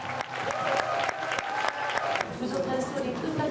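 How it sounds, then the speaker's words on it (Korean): A theatre audience applauds after a pansori performance, with steady dense clapping that carries on throughout and a little crowd murmur mixed in. "노래가 끝나자 관객들의 박수가 쏟아진다."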